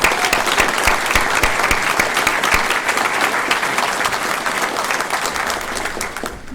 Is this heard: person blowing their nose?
no